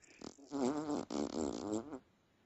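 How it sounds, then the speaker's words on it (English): Fart sound effect, a long, loud buzzing raspberry with a wobbling pitch, briefly broken in the middle, heard close and alone without talk. "It was supposed to be a fart."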